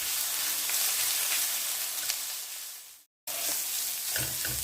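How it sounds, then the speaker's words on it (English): Minced ginger sizzling loudly in a hot pan for lamb curry, a dense continuous frying hiss broken by a brief dropout and stirring scrapes near the end. "So that's going to go in, and I'm frying this literally just for a minute."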